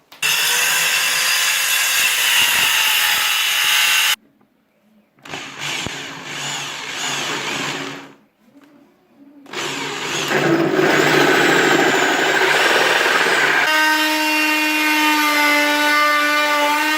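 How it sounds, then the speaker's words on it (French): A circular saw cuts laminate floating floor boards laid over tile in a kitchen, loud whining bursts of cutting separated by brief quiet gaps, ending on a steady high-pitched motor whine as the blade spins down. "m'a permis de couper toutes les lames de parquet avec la scie circulaire"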